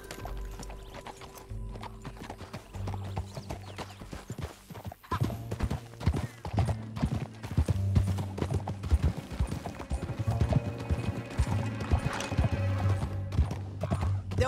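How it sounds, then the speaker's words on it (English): Horse hooves in the video game Red Dead Redemption, a rapid continuous clip-clop of galloping with occasional whinnies, fairly close under faint game ambience. "Back on your horse. Let's get after them."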